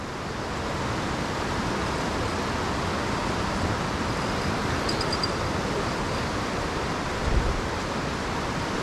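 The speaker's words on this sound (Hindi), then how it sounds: "आवाज़ आप सुन सकते हैं, कल कल बहता हुआ जल।" Steady broadband rush of the Bal Ganga river flowing below, a continuous even wash of water heard alone with no talk, constant in level throughout.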